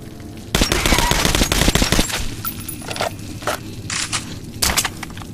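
Gunfire in the video game Metro: Last Night: a loud, dense burst of rapid shots for about two seconds, followed by several separate sharp cracks spaced out over the next few seconds.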